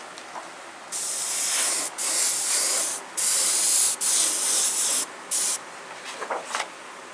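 An airbrush sprays paint in several hissing bursts of about a second each, separated by short pauses, loud and close, ending in a few quick spurts.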